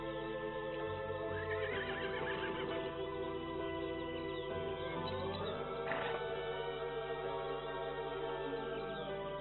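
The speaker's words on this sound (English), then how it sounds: "These free-roaming horses are called mustangs." Wild, free-roaming mustang horses neigh in Rostov National Reserve, two clear whinnies rising and falling over a steady background of continuous ambient noise, with no talk.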